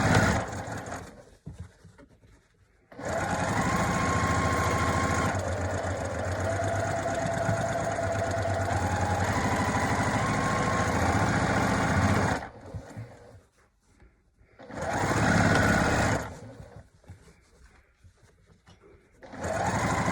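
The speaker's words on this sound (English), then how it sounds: "We're going to stitch the tops of them." A sewing machine stitches along the tops of fabric face masks in long steady runs, pausing between seams, close and loud with no talk.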